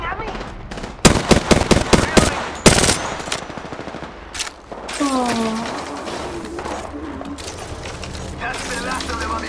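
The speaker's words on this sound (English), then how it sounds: "They're shooting at me." Rapid bursts of automatic gunfire in the battle-royale video game Apex Legends, loud and close, with quick volleys and single shots crackling over a steady background and a voice speaking alongside.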